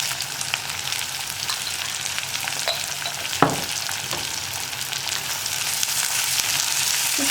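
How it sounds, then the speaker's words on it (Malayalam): Onions and curry leaves sautéing in hot oil for a potato curry, a steady dense sizzle close by, with a spoon scraping and stirring through the pan now and then. "സവോള ഒന്ന് ഒരുവിധം ബ്രൗൺ ഷെയ്ഡായി വരുന്നത് വരെ നമ്മളൊന്ന് ഇളക്കി കൊടുക്കുക"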